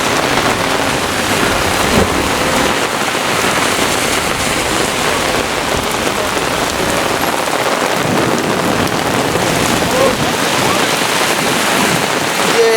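Heavy rain pours steadily during a severe thunderstorm in Brooklyn, a loud, dense, unbroken hiss close by for the whole stretch, with any thunder lost in the downpour.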